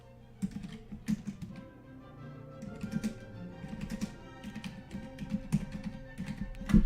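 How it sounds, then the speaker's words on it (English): Rapid keystrokes on a computer keyboard, close and fairly quiet, in irregular bursts of clicks with a steady low background hum and no voices. "Let's type in."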